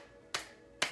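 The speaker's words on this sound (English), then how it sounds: "The clapping always wakes me up and brings me into joy." Two sharp, isolated hand claps about half a second apart during a moving meditation session, each crisp and close with quiet in between.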